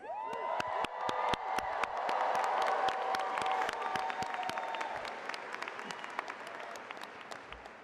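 A crowd at a university school of education graduation applauds and cheers for graduates, with individual sharp claps and whoops over a continuous clapping bed that slowly fades.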